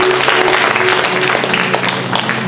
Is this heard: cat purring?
no